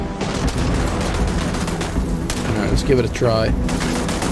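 Gunfire from a shotgun in the video game Starfield rattles loudly and continuously through the scene, with someone briefly speaking over the shooting.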